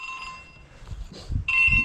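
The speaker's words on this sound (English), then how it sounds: "Why is it ringing you?" A phone rings outdoors in a farm field, two short bursts of electronic ringtone separated by a brief pause, over low rumbling wind noise.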